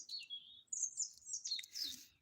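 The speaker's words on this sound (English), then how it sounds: "we're out in the garden listening to the birds" Small birds chirp and tweet in a garden, a quick series of high, bright calls close together with brief pauses, faint and outdoors with no talking.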